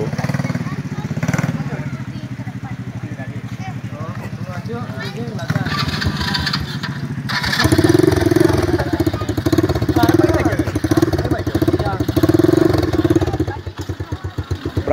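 Rental motorbikes at Air Mati beach in Ketapang idle and rev nearby, a low, throbbing engine drone that rises partway through, running under steady conversation.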